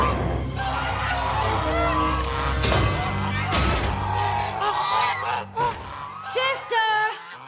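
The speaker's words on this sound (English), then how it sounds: "Another false alarm from Shining Armor's guard geese." Cartoon guard geese at a castle raise an alarm, honking loudly and repeatedly amid a busy mix of shouts and music, with voices speaking over the din.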